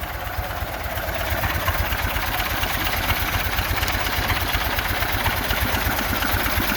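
The engine of a 1919 Autocar dump truck runs at a steady idle, chugging in a regular low pulse. It sounds close and constant, with no talking.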